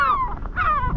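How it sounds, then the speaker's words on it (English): Seagulls on Berlenga Island, off Portugal, give two loud, close, drawn-out descending cries in quick succession. "this place reminds me of that movie, The Birds, because I'm surrounded by seagulls"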